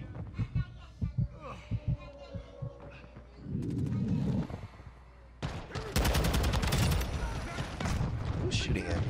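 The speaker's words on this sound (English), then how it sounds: "Who's shooting at me, man?" Rapid gunfire bursts from a first-person shooter video game, loud and dense in the second half, mixed with game effects and a player's talk.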